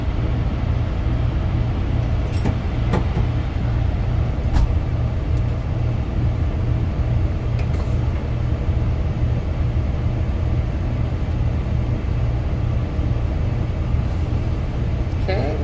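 A coach diesel engine runs steadily at high idle to build brake air pressure, a constant low rumble with no pauses, broken by a few brief clicks and hisses.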